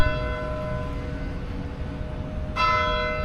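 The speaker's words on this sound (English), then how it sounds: "this is right on time as the bell just rung right here" A church bell rings in downtown Sevierville, Tennessee, on Court Street. Its sustained, steady tones are fairly loud and close, and a fresh strike swells the ringing near the end, with no talking.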